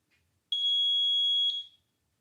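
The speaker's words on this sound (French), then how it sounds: "Si le signal sonore est émis, cela signifie que la batterie est en état de fonctionnement." A Rod Tuner battery test gives a single high, thin electronic beep lasting about a second, clean and fairly quiet against near silence.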